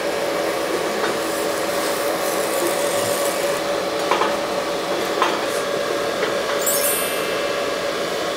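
Electrolytic polisher at raised power cleaning rust and heat discoloration from argon (TIG) welded stainless steel, giving a steady close hiss and fizz with faint crackles throughout, no talking.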